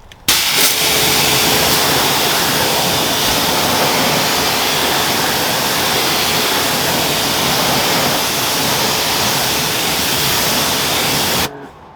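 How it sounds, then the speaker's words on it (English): Car wheels rinsed with a water spray during a wash, a loud continuous hiss of spraying water that starts abruptly, holds steady close to the microphone for about eleven seconds, then cuts off, with no talk. "So let's give the wheels a rinse and see how grubby they are, shall we?"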